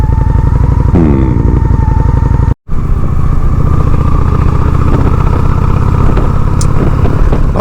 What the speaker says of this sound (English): how the bike sounds. Makes it more throaty, deeper, and I believe quite a bit louder.